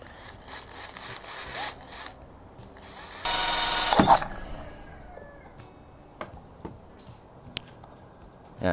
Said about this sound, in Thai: เราก็จะใช้สว่านเนี่ยนะฮะ เจาะลงไปที่ ของสเปรย์นะครับเนี่ยครับเจาะลงไปนะครับ